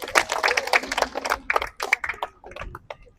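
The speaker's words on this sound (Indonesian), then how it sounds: "kasih tepuk tangan dulu" Applause for the winning teams at a group training session near the mats, a burst of many hands clapping in dense, uneven rhythm that thins and fades toward the end.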